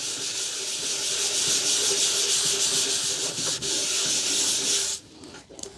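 A coarse cutting compound is rubbed by hand over a scratch on the cabinet of an Astor Model JJ radio, making a steady, close, hissing scrub that runs continuously for about five seconds before stopping abruptly.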